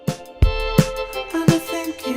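A short excerpt of a song: punchy drum hits and a deep bass thump under a synth line, loud and rhythmic, with no speech.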